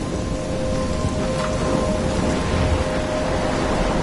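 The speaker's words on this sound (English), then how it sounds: "I'm trapped in a storm?" Steady heavy rain with a low rumble of thunder in a stormy outdoor scene from the video game Life is Strange, a continuous dense downpour hiss with no talking.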